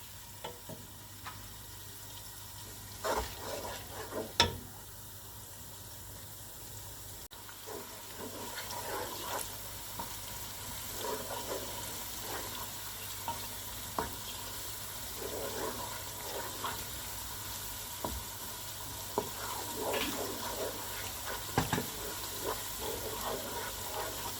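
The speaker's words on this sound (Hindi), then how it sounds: "इन सबको अच्छी तरह से भून लें।" Spices and potatoes fry in a pan for saag aloo, with cumin and dried coriander among the spices. A steady soft sizzle runs throughout, broken by scattered scraping and clattering stirs, with no talking.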